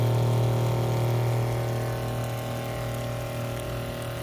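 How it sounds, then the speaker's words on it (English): Water sprays steadily from a pair of freshly cleaned spray nozzle lines, a continuous close hiss and rush with a low pump hum underneath, easing slightly in level over a few seconds. "So we have water coming out each side."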